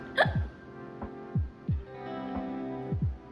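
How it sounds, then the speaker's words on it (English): A short sharp hiccup followed by a burp, then a few more throaty gulping pops spaced irregularly, close and fairly loud with no talk over them. "Had like a hiccup and then a burp."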